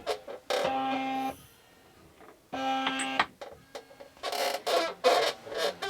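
An automatic powder dispenser throwing 29.5-grain rifle charges hums in two steady whirring bursts about two seconds apart, followed by lighter clicks and rattles, close by with no talk.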